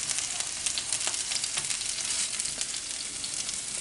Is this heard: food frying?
yes